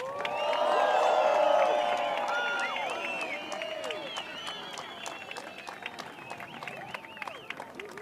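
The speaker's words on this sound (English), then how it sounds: "Ladies and gentlemen, please make some noise for your men's runner-up" Beach crowd at a surfing contest finals day applauding and cheering for surfer Italo Ferreira, swelling early then settling into scattered claps and whoops, heard under an announcer's talk.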